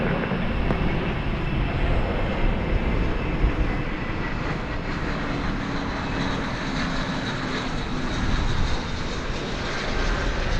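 A jet airliner roars down runway 18 left at DFW airport on takeoff, a loud, sustained broadband engine rumble that holds steady for ten seconds with no talking.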